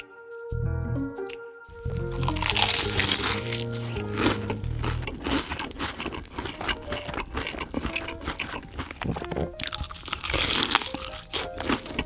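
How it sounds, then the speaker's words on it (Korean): Crispy fried chicken being eaten up close, with loud, repeated crunching and squishing bites over soft background music. "바삭한 치킨을 먹는 소리네요."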